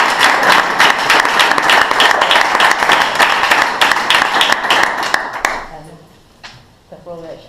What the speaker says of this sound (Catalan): T'aplaudeixen, que bé.